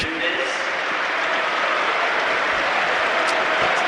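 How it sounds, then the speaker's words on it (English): Travelling football fans at a Charlton Athletic versus Ipswich Town match applaud during a substitution, a dense, steady wash of clapping from a large crowd throughout, with commentary voices faintly underneath. "He applauds the travelling support, and they applaud back."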